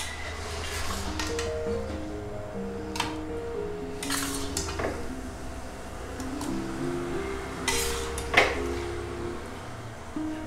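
Mango kalakand mixture is scraped and poured into a metal plate, with soft scraping and intermittent light clinks of a spoon against metal over a quiet background.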